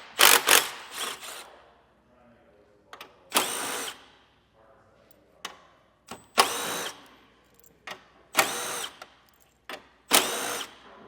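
Power ratchet or drill running a 10mm socket on the grille bolts of a 2024 Cadillac Escalade, short loud whirring bursts repeated about seven times with quiet pauses between.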